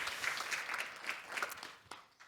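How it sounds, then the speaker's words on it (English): Faint, soft applause at an online forum on AI and tourism, a thin patter of scattered claps, low and distant, trailing off toward the end. "Warm applause for joining in the middle of the night"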